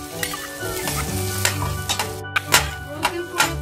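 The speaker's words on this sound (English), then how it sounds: "Roast ginger and garlic. Now add green chilies as per your taste." Ginger, garlic and green chillies roasting in a pan for a mushroom and peas curry, a loud close sizzle with sharp spatula scrapes and clacks every half second or so, no voices.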